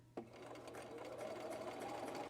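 Domestic sewing machine stitching a dress seam half an inch from the outside edge, a steady close mechanical hum and rapid needle chatter that starts abruptly and runs without pause, no talk.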